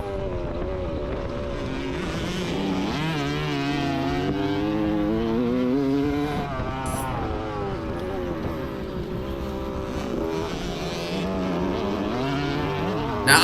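A motocross dirt bike at Ashcraft Farms MX revs hard through third and fourth gear, its engine pitch climbing and dropping in repeated sweeps, loud and close with a brief gap midway.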